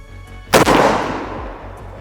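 A shotgun loaded with 3.5 inch shells fires once at a turkey target outdoors: a single sharp, loud blast followed by a rolling, decaying boom, with no talking.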